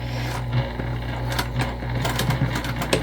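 A sewing machine stitches a seam on a crossbody bag, a steady mechanical run of rapid needle strokes with small clicks, heard close with no talk.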